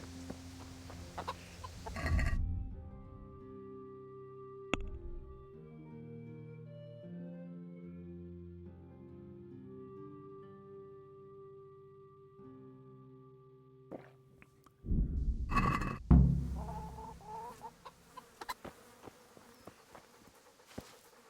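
Hens cluck in the Kingdom Come: Deliverance video game, in short busy bursts at the start and again near the end, with a quieter stretch of sustained tonal sound between.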